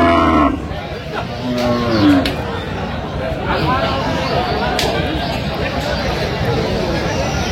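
Cattle moo repeatedly at the busy Aftabganj livestock market in Dinajpur, where Sahiwal cows and calves are sold, several calls rising over a constant crowd hubbub.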